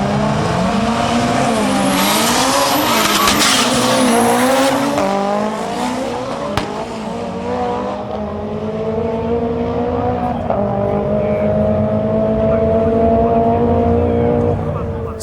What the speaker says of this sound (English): customers running a street drag 180SX. With a T88 turbo, it makes huge horsepower, but has trouble getting off the line.